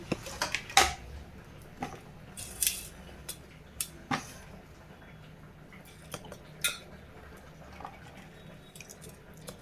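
Knife chopping onion and green chillies in a village kitchen for a sambar tempering: sparse, irregular close taps and light clinks against a quiet room background, with no talking.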